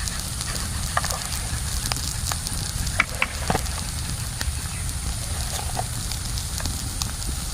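Spices sizzle steadily in oil while being fried and stirred in a pan for koi fish horgouri, a continuous close hiss with a few faint scraping clicks on top.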